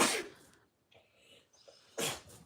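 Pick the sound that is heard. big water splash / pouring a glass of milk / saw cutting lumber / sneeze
sneeze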